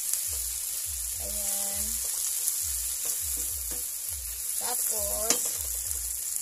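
Canned Vienna sausage frying in a pan, a steady close sizzle with occasional stirring scrapes, while a person speaks briefly over it.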